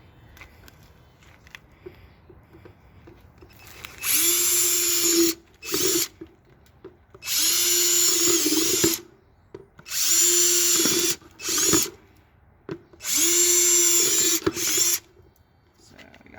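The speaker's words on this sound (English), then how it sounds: "I do have to put a couple holes in the bottom, so that's what I'm going to do now." A power drill bores holes through the bottoms of small plastic planters in four loud, sustained bursts of a couple of seconds each, separated by short pauses and brief clicks.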